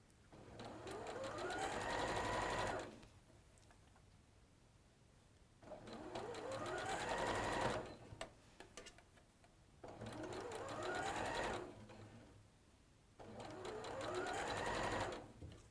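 A domestic sewing machine stitches a dress in four runs of steady whirring of about two seconds each, stopping and restarting in between as the fabric is turned, and a voice talks quietly in the pauses.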